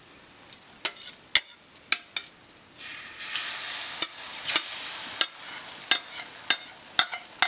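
Beaten egg for a Korean egg roll sizzles softly in a frying pan, a faint crackle swelling in the middle, punctuated by sharp clicks and taps of a utensil against the pan.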